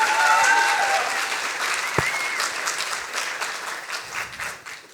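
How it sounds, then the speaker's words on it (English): Audience applause at a science slam, a dense, steady wash of clapping from a crowd that holds for about five seconds and slowly thins, with a faint voice or tone underneath near the start. "Big applause for Alice Podestà."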